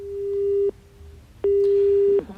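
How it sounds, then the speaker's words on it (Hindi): Two steady electronic telephone line tones, each lasting under a second, with a short gap between them, loud and clear on a phone connection as a reporter joins a news broadcast. "तो जानकारी के लिए बातचीत करेंगे ग्वालियर संवाददाता सुशील जुड़ गए हैं फोन पर।"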